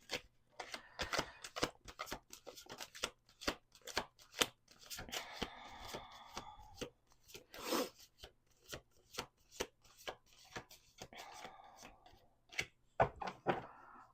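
Playing cards riffled and shuffled repeatedly up close, a series of quick papery flutters and snaps with brief pauses between, no voices.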